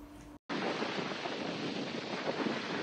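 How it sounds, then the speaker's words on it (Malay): Strong ocean surf and gusting wind at Klong Ning Beach, Koh Lanta, a loud continuous roar buffeting the microphone after a brief cut at the start. "Ombak dia jangan cakap lah, memang kuat."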